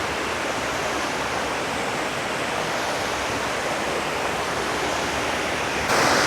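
Mountain river flowing beside a wet trail in Rizal, a steady broadband rush of water that holds loud and close throughout, with a slight surge near the end.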